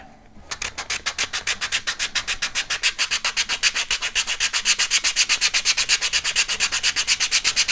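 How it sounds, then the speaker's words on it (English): Steady rhythmic back-and-forth strokes of a 220-grit sandpaper block rub along the trailing edge of an Estes Vogel model rocket fin, close and even, with no talk. "This is a 220 sandpaper, by the way."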